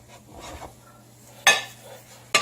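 Folded omelette slid from a pan onto a plate, with soft scraping and two sharp clinks of utensil or plate against the pan, quiet and close, no talk.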